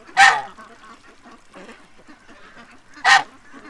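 A goose gives two loud, close, harsh honks about three seconds apart, with quieter low grunting and rustling in between.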